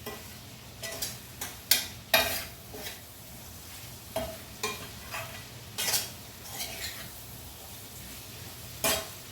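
Potato kurma ingredients fry in a pan with a low sizzle, and a spoon scrapes and knocks against the metal in irregular bursts close by. No one speaks.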